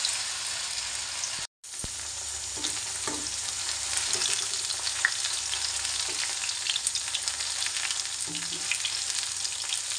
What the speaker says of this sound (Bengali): পকোড়াগুলো খুব সুন্দর করে ভাজা হচ্ছে।